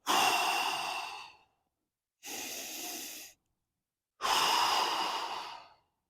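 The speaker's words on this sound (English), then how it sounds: "we're going to take a deep breath in through your nose and then exhale hard through your mouth" Three long, loud breaths, each a deep inhale through the nose or a hard exhale through the mouth, separated by short silences, close to the microphone with no talking.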